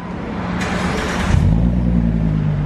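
A Ford Mustang with a newly fitted exhaust idles with a deep rumble, then revs up briefly and settles into a low, throaty burble, loud and close.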